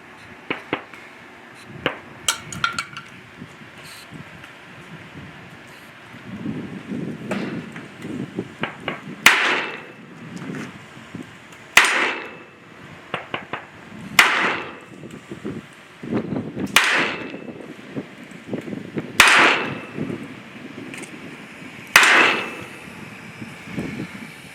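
A blue steel handgun loaded with Federal Premium low recoil personal defense ammunition fires six sharp, loud shots, spaced about two to three seconds apart, with quieter handling noises in between.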